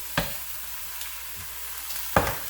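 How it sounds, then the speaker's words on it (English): Drained tuna being added to a pan of cooked onions and peas, giving two short thuds and scrapes against a soft, steady background hiss, with no talking. "So we're going to go ahead, add our drained tuna."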